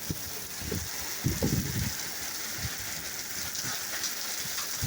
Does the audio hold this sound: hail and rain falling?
yes